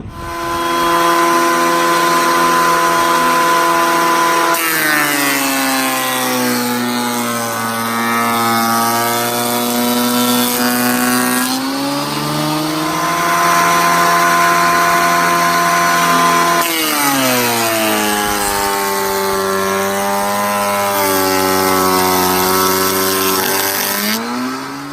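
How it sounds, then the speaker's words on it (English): Power planer shaving wooden boards down in thickness for antique-style doors, a loud whining motor whose pitch dips and rises again with each of several passes. "So that's the reason I'm planing them"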